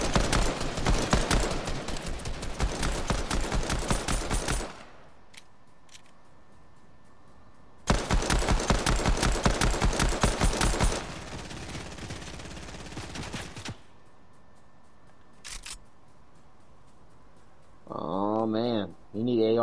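Fortnite video game gunfire, two long bursts of rapid automatic shots with a quiet gap between them, followed by a few brief sharp sounds near the end.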